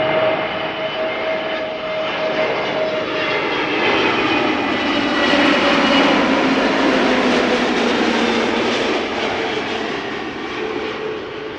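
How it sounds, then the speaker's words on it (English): An EasyJet Airbus A320neo arriving at Amsterdam Schiphol from Stansted gives a loud, steady jet engine roar that holds for the whole stretch, swelling slightly in the middle as the aircraft passes, with no talk over it. "EasyJet A320neo arriving from Stansted."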